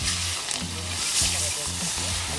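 Onions dropped into hot oil for a village-style Hyderabadi fish biryani, a steady bright sizzle with a rhythmic stirring pattern underneath, close and continuous.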